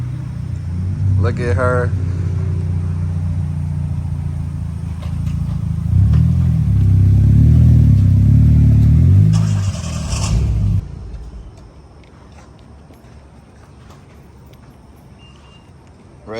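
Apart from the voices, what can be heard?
car pulling up, engine rumbling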